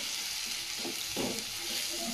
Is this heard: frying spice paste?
yes